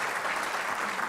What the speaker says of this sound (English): round of applause for Espen Barth Eide